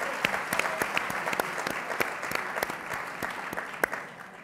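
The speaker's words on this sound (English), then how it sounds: "So a round of applause for all of our contestants here." Audience applause for contestants at a think tank pitch competition: steady, dense clapping from a room full of people that stays loud throughout and tapers slightly at the end.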